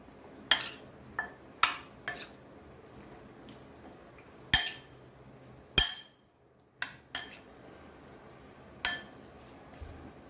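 Utensil clinks against a bowl while peri peri chicken wings are mixed for marination: a handful of sharp, separate metallic taps, close and fairly faint, with quiet gaps between them.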